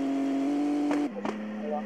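Game car engine from a Roblox driving game, a cheap car being drifted: a steady engine drone with a couple of brief squeal-like bursts as the pitch drops, under game sound with speech present.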